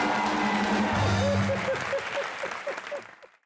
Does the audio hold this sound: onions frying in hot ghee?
no